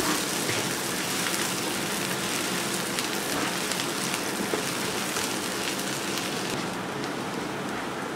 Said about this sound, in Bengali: সরিষার তেলের মধ্যে রসুন আর শুকনো মরিচে। রসুনটাকে একটু বাদামি করে ভেজে নেব।